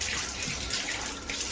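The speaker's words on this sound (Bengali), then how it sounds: "মুখটা ধুয়ে নিচ্ছি।" Tap water runs steadily and close by as a face is washed at a sink, a continuous broadband splash with no speech.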